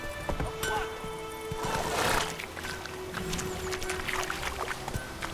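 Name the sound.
horse Roach's hooves running, from video game The Witcher 3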